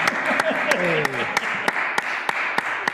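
Congregation at a church worship service applauding a couple's 50th wedding anniversary, with sharp regular claps standing out over a soft crowd wash while a voice talks over it.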